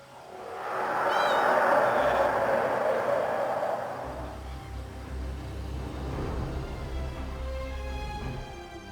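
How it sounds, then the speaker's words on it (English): A cat in Elder Scrolls Online lets out a loud, drawn-out meow lasting a few seconds, followed by a low rumbling game ambience that continues after it fades. "Follow that cat!"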